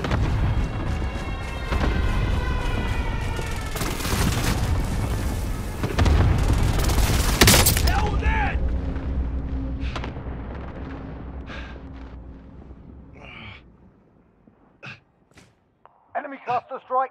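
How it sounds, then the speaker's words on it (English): A heavy barrage of cluster strike explosions in a shooter game, booming and rumbling for several seconds, then fading to a long decay with scattered distant shots and speech. "Cluster strike away."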